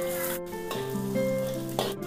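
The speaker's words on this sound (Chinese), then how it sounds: "姜丝蒜泥炒香" Shredded ginger and minced garlic crackle and sizzle in a hot wok, a constant frying hiss broken by a few stirring scrapes, close up with no talking.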